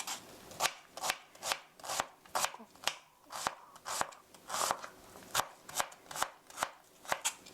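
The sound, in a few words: knife mincing on a cutting board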